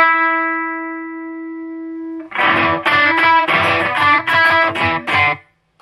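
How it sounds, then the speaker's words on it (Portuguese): Electric guitar played through a Fender Champion 40 amplifier with reverb off, a sustained chord fading before a run of loud, distorted strummed chords with short breaks, then cut off abruptly. "eu tô sem reverb e o amplificador tá soando bem melhor do que tava soando antes"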